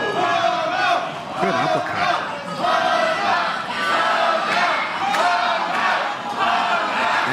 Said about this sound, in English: the crowd trying to motivate and cheer on Milo Miral